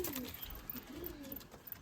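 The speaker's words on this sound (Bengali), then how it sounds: "দুটোই ফুল সিরা পায়রা" Full Sira pigeons coo softly nearby in a few low rolling calls over a faint background hiss.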